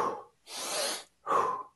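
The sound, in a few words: energizing breathing pattern, inhale longer than exhale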